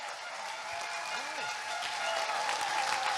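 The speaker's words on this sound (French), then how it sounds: "Je crois qu'on peut à nouveau applaudir, s'il vous plaît." At a Vendée Globe press conference, the audience gives a short, steady burst of clapping and crowd noise, with voices underneath.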